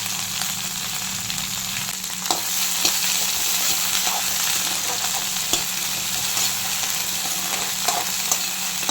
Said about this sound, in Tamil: நம்ம இப்போ எண்ணெயில் ஃப்ரை பண்ணி எடுக்கிறோம்